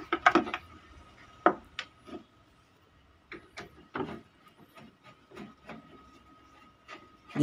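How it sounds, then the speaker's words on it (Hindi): Screws being loosened with a screwdriver on the cabinet of a Microtek 900 EB inverter, heard as scattered close clicks, scrapes and metallic ticks spread irregularly across the quiet stretch. "अभी मैं इसको ड्राइवर के मदद से ये स्क्रू को खोल रहा हूँ"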